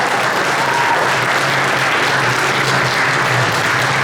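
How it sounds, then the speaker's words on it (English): An audience at a school presentation on the UN Sustainable Development Goals applauds loudly and steadily, a dense wash of clapping close by that fills the whole stretch without letup. "Please give him a round of applause."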